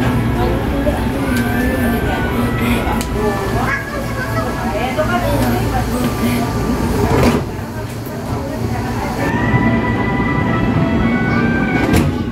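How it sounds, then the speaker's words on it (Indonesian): A KRL Commuter Line TM 6000 electric train pulls away from a stop, heard from inside the car as a low hum and a rising motor whine beneath people talking close by. "KRL-nya akhirnya jalan nih."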